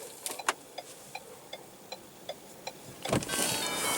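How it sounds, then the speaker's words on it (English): In a 2016 Lincoln MKZ 2.0 L hybrid, a few clicks are followed by a steady run of soft hazard-light ticks, then the automatic driver's side power window motor hums in near and loud for the final second. "Automatic driver's side window."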